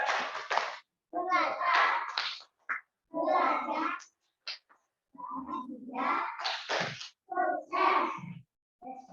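Children in a class over Zoom chant and clap a rhythmic success cheer, short bursts of young voices alternating with brief silences, moderately close.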